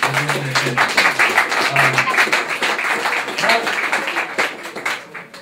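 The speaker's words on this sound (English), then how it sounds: "Applause for Manifesto DC, everyone." An audience applauds for the arts group Manifesto DC at a DC talk event, a moderate, continuous patter of handclaps with brief voices mixed in, tapering off toward the end.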